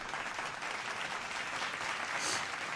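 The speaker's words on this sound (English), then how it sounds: "we give her a round of applause on her birthday" An audience gives a birthday round of applause, a continuous wash of clapping from a crowd at an even level throughout.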